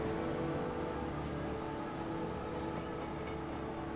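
Steady heavy rain falls in the video game Heavy Rain, a dense continuous hiss of drops with a faint low rumble beneath, even and unbroken throughout.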